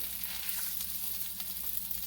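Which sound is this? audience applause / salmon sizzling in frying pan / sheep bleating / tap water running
salmon sizzling in frying pan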